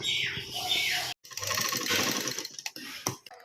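A sewing machine runs in steady whirring bursts while stitching a homemade school lunch bag, with a brief stop before resuming, loud and close.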